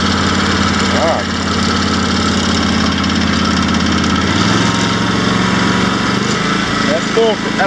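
A 2017 John Deere X350 lawn tractor engine runs at full throttle outdoors, a loud continuous drone with a shifting pitch, while a person talks over it.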